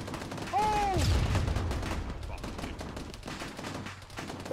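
Gunfire in the military video game ArmA 3: a burst of shots comes in early, followed by scattered cracks and rumbling reports. A short vocal exclamation rises and falls near the start.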